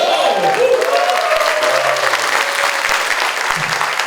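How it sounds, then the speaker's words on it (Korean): Loud, steady applause from a studio audience fills the whole stretch, dense clapping with a faint tonal sound drifting underneath. "큰 박수 부탁드리겠습니다"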